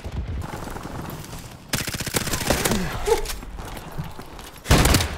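Gunshots in Call of Duty: Modern Warfare start with a sudden loud burst of fire, followed by a stretch of rapid repeated shots with other game sounds, then a final sharp, loud blast near the end.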